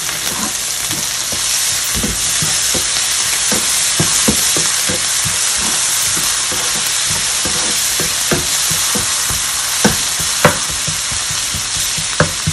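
Ginger garlic paste sizzling and frying with onions in hot oil in a pan, a steady loud hiss broken by frequent crackles and pops from the spatters, with no voices.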